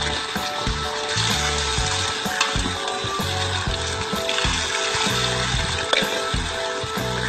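Water pours and splashes steadily while someone bathes wearing a helmet that keeps the head dry, with a close, continuous gush broken by uneven sloshing bursts.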